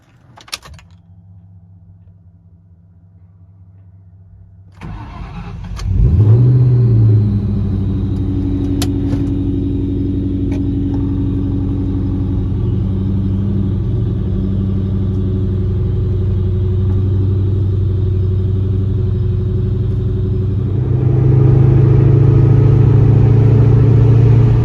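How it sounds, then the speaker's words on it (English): A Ford Mustang SVT Cobra starts after a door thunks shut, its engine settling into a steady loud low rumble while driving, with a rise in revs near the end. "Perfect excuse to get the Cobra out and go for a nice drive."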